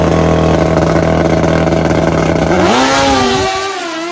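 A motorcycle engine idles loudly and steadily, then revs up with a rising whine before fading out.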